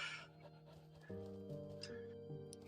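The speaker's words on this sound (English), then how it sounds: "When you hear the Foxo panting, that means you are out of stamina." A fox in the Spirit of the North video game pants when out of stamina, a short run of soft, breathy puffs near the start that then sits under steady, sustained music.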